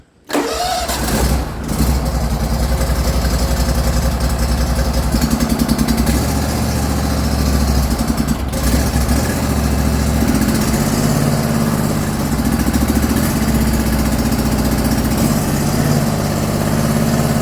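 An old Ford turbo diesel pickup truck engine cranks briefly, catches, and settles into a loud, steady rumbling idle that runs on without a break.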